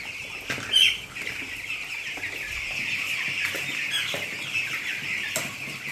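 A crowd of hungry day-old broiler chicks peeps continuously in a shrill, dense chorus, close by, with a brief flutter and a few soft knocks underneath and no voices.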